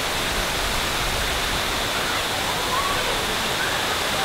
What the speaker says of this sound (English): I'm behind the waterfall. I don't know if you can hear me, but it's beautiful.